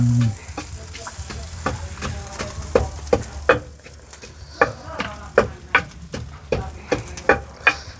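An egg fries in a hot pan with a steady sizzle, while a spatula scrapes and taps against the metal in repeated sharp clicks that come faster toward the end, close up with faint talking in the background.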